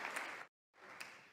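Crowd applause at the State of the Union address, a dense wash of clapping broken by a short silent gap before resuming.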